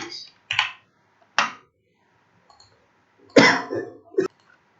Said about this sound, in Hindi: तो जैसा दिया जा रहा है मैं वैसा टाइप कर रहा हूँ